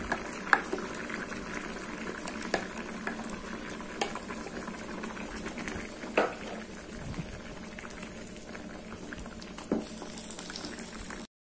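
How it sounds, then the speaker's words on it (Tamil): Ground paste is poured into a pot of simmering vegetables for vegetable paya, giving a soft continuous bubbling and liquid churning with occasional clinks and pops, fairly quiet and close, without speech. "இப்போ இதில் இந்த அரைச்ச இந்த பேஸ்ட்டை ஊற்றிடுறேன்."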